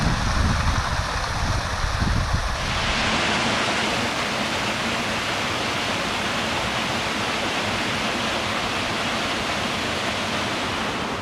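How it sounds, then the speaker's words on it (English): A waterfall pours through a narrow cut in the rocks in a wooded hollow in Connecticut. A loud, steady, broadband roar fills the whole stretch, its tone shifting slightly early on before settling into a constant rush. "that is a really awesome waterfall"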